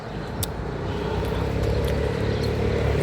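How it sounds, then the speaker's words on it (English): Steady traffic noise from cars passing on a road beside a forested residential area in Rota, a continuous broadband rumble held at an even, fairly loud level throughout, with no talking. "you will feel more calm, except the noise of the cars"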